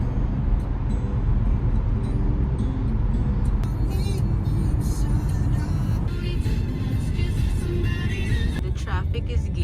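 Steady road traffic on a Dubai highway heading toward Al Qudra Lake, a continuous loud rumble of cars with passing engine noise throughout.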